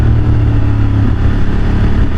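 A Honda Hornet 750 motorcycle engine revs steadily and loudly up close, a dense low-pitched mechanical drone holding through the short stretch with no voices.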